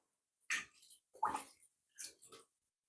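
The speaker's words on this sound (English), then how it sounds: "I'm going to pour some water over it and make sure you give it a good wash" Water poured over sea moss in a bowl to rinse it clean: three short, close splashing bursts separated by brief pauses.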